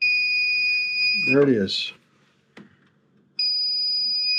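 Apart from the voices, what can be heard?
circuit breaker finder beeping when it finds the circuit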